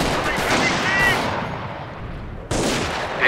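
Gunfire in a Company of Heroes Stalingrad battle on the German lines: a dense, loud rattle of shots that thins out, then a sharp fresh burst near the end.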